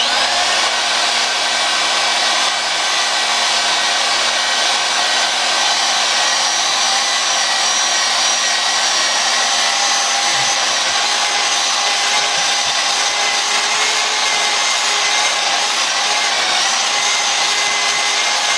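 Power tools polish a powder-coated wheel on a 2020 Yamaha MT-09, making a loud, sustained high whine with slight grinding that runs unbroken and alone for nearly twenty seconds.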